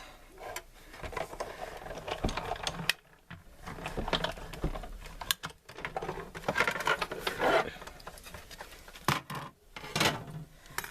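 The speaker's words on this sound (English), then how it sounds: "I'm going to run this through the Big Shot" Paper run through a Big Shot die-cutting machine for a Stampin' Up! feathery card project, giving a steady cranking, rolling mechanical rumble with brief pauses, close and moderately loud with no talking.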